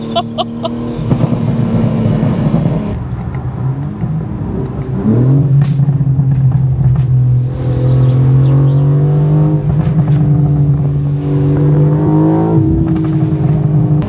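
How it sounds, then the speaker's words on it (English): A 2025 BMW M4 Competition's straight-six engine revs hard and drones close by, pitch climbing and dipping through several throttle pulls, with sharp exhaust pops between. "you can also hear the straight 6"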